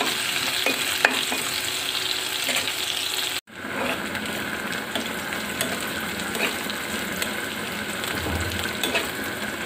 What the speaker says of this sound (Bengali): লবণ দিয়ে এখন মেরে ফেরে পেঁয়াজগুলো হালকা ভেজে নিন।